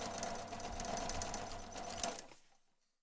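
A sewing machine stitches a fabric pencil bag in a fast, steady whirring run of about two seconds, close and clear, then stops and fades to quiet.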